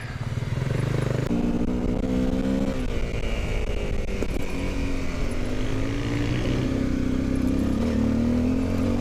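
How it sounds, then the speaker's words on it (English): A Honda CRF250L motorcycle engine drones steadily and close up while it is ridden off-road over wet rocks and roots in Wingello State Forest. The pitch shifts gently as the throttle eases on and off, with rumble from the terrain underneath. "Ease your bike up over it without stopping."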